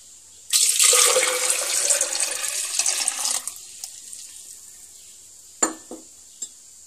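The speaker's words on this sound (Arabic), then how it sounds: "أول حاجة كنديرو الماء" Water is poured into a bowl for Moroccan baghrir batter in a steady, splashy stream for about three seconds, then a couple of faint knocks and clinks follow.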